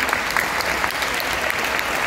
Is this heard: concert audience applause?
yes